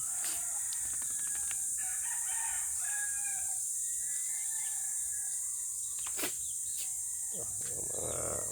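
A pet rooster in a Filipino backyard crows amid a steady insect-like hiss, with faint clucks and a few sharp knocks scattered through; the crow is moderately near but not loud over the constant background.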